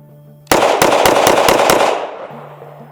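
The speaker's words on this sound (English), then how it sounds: "I got 6 rounds in here. I'm gonna go as fast as I can to see how fast I can shoot." Six rapid pistol shots from a Kel-Tec PR57, sharp loud cracks in a quick even string, each leaving a ringing tail that fades out after the last shot.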